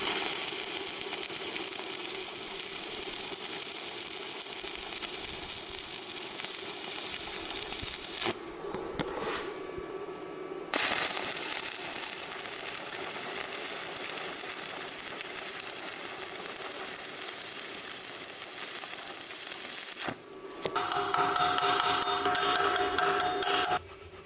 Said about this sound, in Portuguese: vou soldar agora de um lado e depois do outro para finalizar